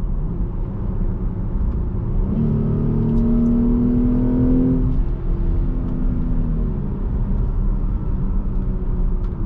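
Jeep engine drones steadily while the driver runs it in manual mode, rising in pitch through a rev near the middle before settling back to a low, even rumble, with no talking.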